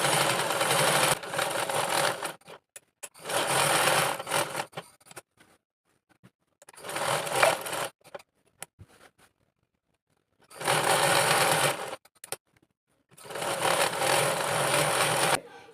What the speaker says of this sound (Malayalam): വീണ്ടും ഒരു സ്റ്റിച്ചിങ് കൊടുക്കാം